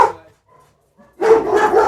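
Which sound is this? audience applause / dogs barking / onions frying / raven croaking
dogs barking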